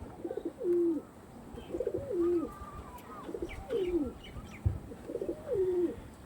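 Chennai breed pigeons coo in a close, repeated series of low throaty phrases, roughly one every second, with faint chirps and light background noise behind them.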